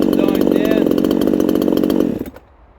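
Chinese 58cc chainsaw engine running after tuning, droning loud and close at steady revs for about two seconds before it is switched off and dies away into quiet.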